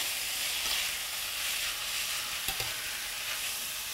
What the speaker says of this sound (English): I'm going to add that and just stir it up and around